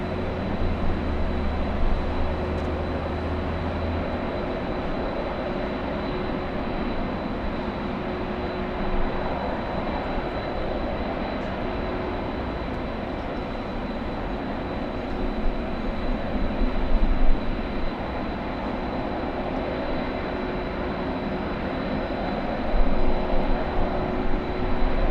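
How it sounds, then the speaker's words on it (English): A large plane at LAX airport roars steadily for the whole stretch, a loud, continuous, rumbling engine drone much like a passing train, with small swells in intensity and no talking. "The airdrop plane sounds like a train."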